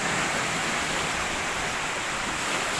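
Rough sea waves at a surf spot, a loud, steady wash of broadband roar with no breaks or distinct crashes and no voices.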